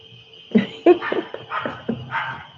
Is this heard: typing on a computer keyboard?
no